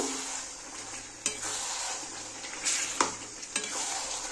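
Chicken curry with potatoes stirred in a pan, a steady sizzle broken by three sharp spoon scrapes and clacks against the pan, close and moderately loud, no voices.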